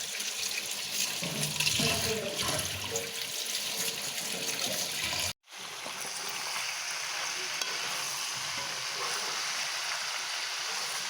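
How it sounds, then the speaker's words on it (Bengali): Running tap water splashing as Malabar spinach leaves are washed, a steady close stream with handling sounds, a brief cut midway, then the flow resumes evenly. "তো সুন্দর করে পরিষ্কার করে আমি ধুয়ে নিব পাতাগুলো।"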